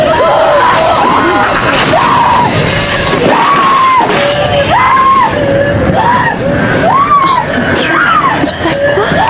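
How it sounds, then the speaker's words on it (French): Screams and yells from a Roblox horror game ring out loud and continuous, several voices crying and wailing in overlapping bursts with a crowded, chaotic feel. "Ça vient de la chambre de Lisa. Il y a des cris."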